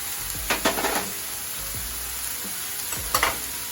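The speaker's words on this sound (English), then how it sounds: "I'm just gonna mix that and let this saute for about 5 minutes" Beef sautés in a pan with sazon and adobo spices, giving a steady close sizzle broken by a few clattering stirs of a utensil against the pan.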